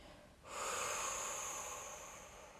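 During a slow relaxation breathing exercise, a person exhales gently and steadily for about two seconds, a soft, airy, close breath with a faint hiss after a brief quiet start.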